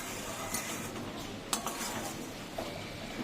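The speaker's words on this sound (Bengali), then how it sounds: "এবার আমি এই যে নারকেলটা দিয়ে দিলাম। নারকেলটা দিয়ে জাস্ট একটু নাড়াচাড়া করে মিশিয়ে" Grated coconut being stirred into boiled lentils and ash gourd in a pot, soft scraping and stirring close by with a faint simmer beneath and a few light clinks of the spoon against the pot.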